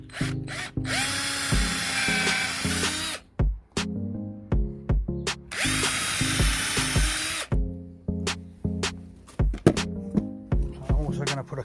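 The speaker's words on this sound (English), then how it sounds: "I'm also going to put a countersink on the holes, just to stop it from splitting open." Power drill countersinking screw holes in the wooden boards of a tomato planter, heard as repeated short whirring bursts with two longer high-pitched runs, close and loud, with pauses between.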